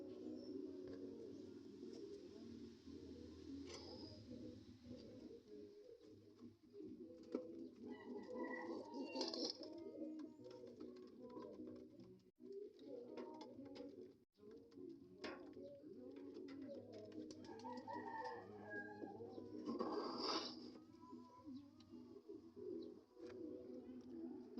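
Pigeons coo steadily at close range, a dense overlapping murmur of low throaty calls running throughout, with occasional wing flutters and brief sharper chirps.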